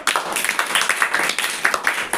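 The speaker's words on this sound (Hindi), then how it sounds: "अनीता को जोरदार ताली लगाइए।" An audience at a school debate claps for a student speaker in a short burst of brisk, dense applause from many hands, fairly close and steady with no speech.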